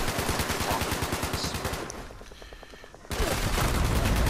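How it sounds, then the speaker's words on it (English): Rapid automatic gunfire from Fallout 76 rattles in loud, evenly spaced shots, drops to a quieter, more distant burst for about a second, then returns at full, dense intensity. "I just shot one person down in the head,"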